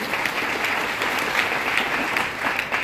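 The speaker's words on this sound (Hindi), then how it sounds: "एक बार जोरदार तालियां अपने लिए" Audience applause fills a motivational success talk at a Vestige business event in Delhi, dense and steady clapping from a large crowd, loud and sustained throughout without a break.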